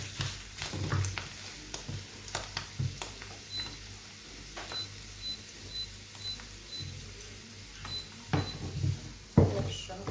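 Chicken browning in a pan before mushroom cream is added, with a soft steady sizzle broken by intermittent stirring clicks and scrapes at close range.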